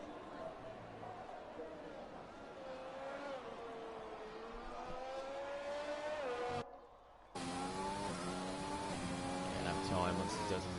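Race car engine in a racing video game, a high, whining note that rises and shifts with gear changes, cut briefly by a short dropout, with a commentator talking over it.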